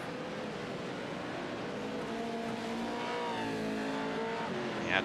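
Pro racing trucks at Lucas Oil roaring around the track, engine notes rising and falling as they pass at mid distance, with a sharper whine building near the end; no talk over it.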